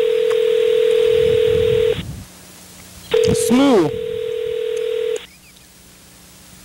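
Telephone call tones from a handset while placing a call: a steady dial tone, then a short burst of dialing beeps and a second tone, loud and close, with a brief spoken word in between.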